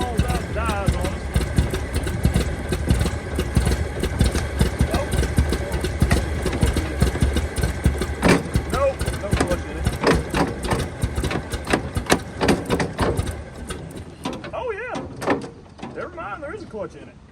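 A 1923 Franklin Model 10 car engine running after 76 years of sitting, giving a continuous rough mechanical clatter with irregular knocks and rattles that fades toward the end.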